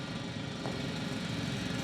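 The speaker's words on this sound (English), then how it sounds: "It's a drill." A steady mechanical drone from a drill running underground among metal structures in the game The Invincible, a continuous low rumble with no voices, constant and fairly loud throughout.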